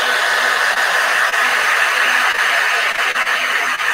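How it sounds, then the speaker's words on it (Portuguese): Hair dryer blowing steadily to dry a watercolor painting on canvas, a loud constant whir held close for several seconds. "eu vou pegar o meu secador e eu vou secar rapidamente"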